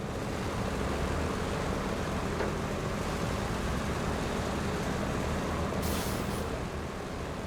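A Kenworth truck in SnowRunner labours through mud in high gear, a steady, loud low engine drone and rumble running throughout with a brief hissing burst near the end.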